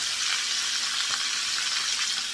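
Food fries in a pan, a steady close crackling sizzle with no voices, continuous and even throughout.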